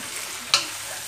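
Food sizzles steadily in a hot pan under a running kitchen fan, with a single sharp scrape of stirring cutting through the frying hiss partway through.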